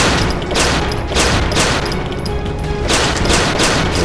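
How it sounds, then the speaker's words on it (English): A burst of rapid gunfire in a crime film shootout, a dense fusillade of sharp cracks coming in repeated volleys over about four seconds, loud and close with no talking. "Get down, he's shooting!"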